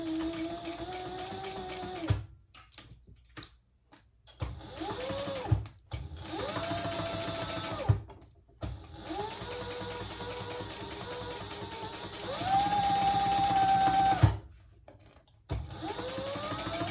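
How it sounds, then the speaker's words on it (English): A sewing machine stitches down the center pieces of a bag at the seam allowance in several separate runs. Each run whirs for a few seconds, with short pauses and a rising, falling motor pitch as the speed changes. "sew down each of the center pieces at the seam allowance in the pattern"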